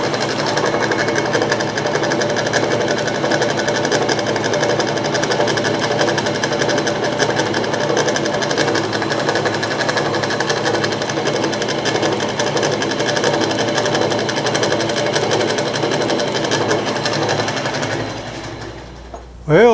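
A 1917 Avey No.1 drill press running with a motor bounce, a loud steady mechanical whir and rapid rhythmic clatter from belts and idlers that holds nearly twenty seconds before winding down at the end.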